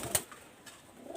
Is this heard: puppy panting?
no